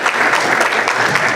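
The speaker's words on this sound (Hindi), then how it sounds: "उनके लिए तालियां हो जाए।" An audience at a Hindi poetry gathering (kavi sammelan) in New York breaks into applause, dense and lively clapping from a crowd, loud and sustained across the moment with no speech on top.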